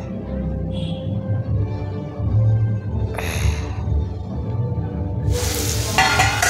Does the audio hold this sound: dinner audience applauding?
no